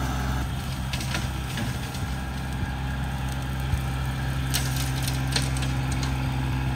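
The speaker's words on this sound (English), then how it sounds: "this isn't a huge tractor, it's a compact tractor" A compact cab tractor's engine idles steadily at a wooded clearing among oak trees, a low even drone at moderate distance with faint scattered clicks above it.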